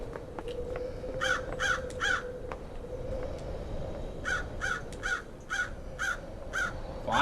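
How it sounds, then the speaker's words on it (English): Crows cawing in the video game Paradise Killer, several harsh calls in short bursts of two and three, loud and close over a steady ambient hum. "I do want these crows to shut up"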